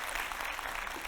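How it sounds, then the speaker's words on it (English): Brief burst of applause from a conference audience, dense overlapping hand claps forming a steady hiss-like wash, moderately distant, with no talking over it. "A big round of applause to them."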